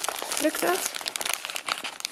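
Paper is torn and crinkled up close while unpacking a parcel, giving a short burst of rustling, ripping sounds under talk in Dutch.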